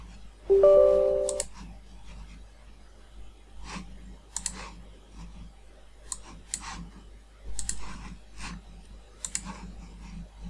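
Computer mouse clicks come in sparse, sharp, isolated ticks, a single click or a quick pair every second or two, near and fairly crisp against a quiet hum, with no speech.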